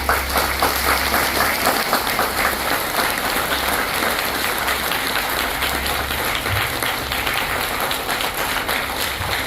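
Applause from an audience welcoming a guest named Arvind to the stage, a dense, steady wash of many hands clapping that fills the whole stretch at an even, fairly loud level with no voices breaking through.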